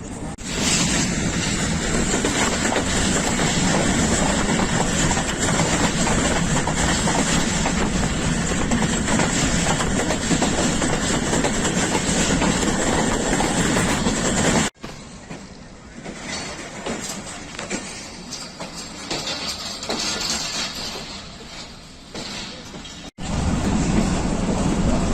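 Pakistan Railways' Rehman Baba Express runs on the rails toward Faisalabad, a loud, steady rumble with a rhythmic clatter of wheels. Midway it softens into a quieter, more distant-sounding stretch, then the full roar returns at the end.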